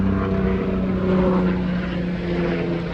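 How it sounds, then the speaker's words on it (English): A steady, loud droning rotor and engine hum from a helicopter overhead, continuous throughout with no voices. "this loud ass fucking helicopter."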